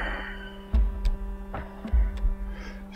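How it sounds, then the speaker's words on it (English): Low, thudding heartbeat from the game Astroneer, in two paired double beats over a steady electrical hum, with no speech. "You hear your heartbeat."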